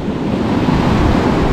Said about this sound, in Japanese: いやーここまでちょっと波高くて激に盛りだぞ